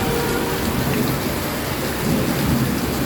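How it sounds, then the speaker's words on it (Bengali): Heavy rain pours steadily over a Behala market street, with rumbling thunder mixed into the dense, close downpour throughout and no talking. "এতটা জোরে বৃষ্টি হচ্ছে বেরোনো যাবে না একদম"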